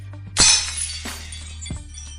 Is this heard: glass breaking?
yes